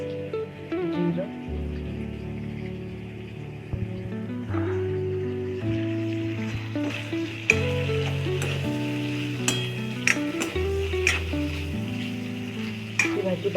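Ground masala paste of onion, garlic, coconut and cumin sizzling in butter in a pan for paneer butter masala, steady close frying crackle with stirring scrapes under background music.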